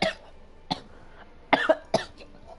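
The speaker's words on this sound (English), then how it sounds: "Oh god, I almost choked like to death, mate" A person coughs hard in a fit after nearly choking: a sharp cough, then another, then a close cluster of harsh, throaty coughs, loud and close with no talk.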